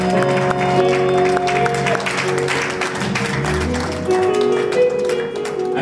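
A church congregation breaks into loud, continuous applause and cheering during a worship service, the clapping steady and dense over sustained music throughout.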